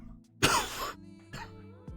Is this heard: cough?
yes